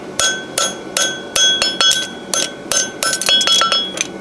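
Steel hammer striking a horseshoe on an anvil while forging the toe, a rapid series of bright ringing metallic clinks in uneven bursts, close and loud with no talking.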